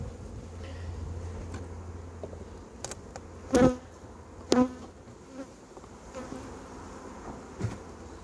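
Bees hum in a low, steady drone over an opened beehive, with a few sharper close passes of individual bees whizzing by the ear.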